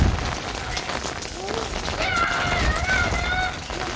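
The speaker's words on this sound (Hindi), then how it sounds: "धुआंधार बारिश हो रही।" Heavy rain pours in Karachi, a dense steady patter of drops on surfaces filling the whole clip at moderate level, with faint chirps or squeaks and a voice in the background.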